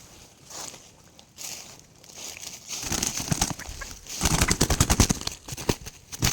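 A wild junglefowl hen clucks in short bursts outdoors, faint at first, then louder, quick rustling and clucking near the end.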